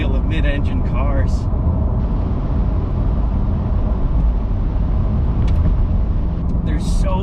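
A deep mid-engine V8 rumble from a 2022 Chevrolet Corvette drones steadily throughout, driving under load in a lower gear with constant low-end roar and no talking.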